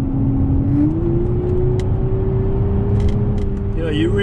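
BMW 760Li V12 driven hard, its engine note a steady low drone that rises slightly in pitch, heard from inside the cabin with continuous road and mechanical noise and a voice speaking over it.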